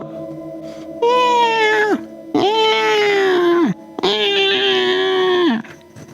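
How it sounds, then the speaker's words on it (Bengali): Three long, drawn-out cat yowls, loud and close, each wavering and trailing off, with brief pauses between them. "ওর সাথে বুক কাঁপানো বিড়ালের ডাক"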